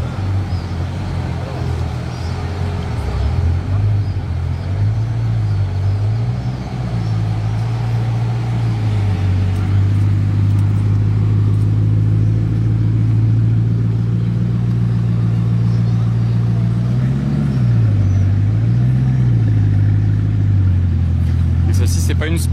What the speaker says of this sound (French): deuxième Bugatti du jour